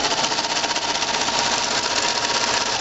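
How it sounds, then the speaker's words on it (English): Serger sewing machine stitching the fabric edges of reusable snack bags: a loud, fast, steady mechanical whirring and chattering that runs unbroken from start to finish, close up and with no talking. "I'm going to switch the serger to where it does not cut."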